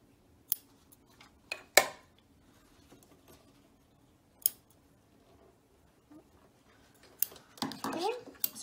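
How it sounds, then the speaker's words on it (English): Sewing scissors snipping loose threads off a finished piece, a few sharp separate clicks spread out with quiet gaps between them and a busier burst of handling at the end. "Clip off all of your threads."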